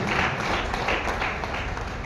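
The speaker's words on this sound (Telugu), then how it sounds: "మన గ్రేట్ కంపెనీ కోసం ఒకసారి గట్టి క్లాప్స్ ఇవ్వచ్చు" Audience at a Vestige business presentation applauding the company, a continuous bed of many hands clapping, fairly loud and even throughout, with no voices.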